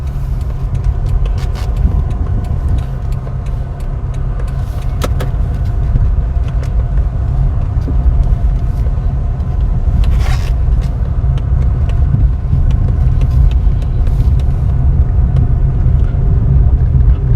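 A car drives along a road in Rose Hill, Manchester, Jamaica, heard from inside as a steady loud engine and road rumble with faint rattles and clicks throughout, no talking.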